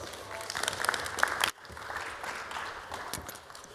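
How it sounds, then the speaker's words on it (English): An audience at a tech conference talk claps in a fairly steady burst of applause, which cuts off abruptly and gives way to quieter room noise with a few faint claps. "So please give a round of applause to Jamie and Ant."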